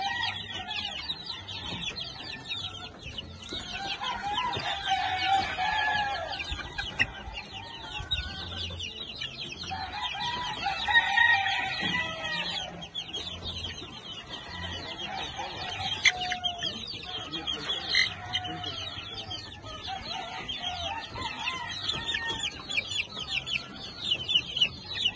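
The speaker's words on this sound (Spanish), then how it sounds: "Estos son los pollitos que están separados." Separated chicks cluck and cheep almost without pause over about twenty-five seconds, fairly faint and moderately near, with overlapping calls rising and falling and no voices.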